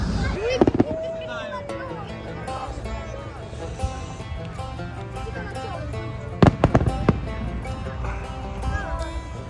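A large Fourth of July fireworks show, with a few sharp bursts early on and a cluster of loud bangs later, over a steady bed of crowd noise and people talking.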